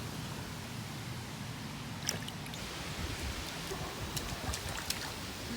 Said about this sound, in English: He's splashing.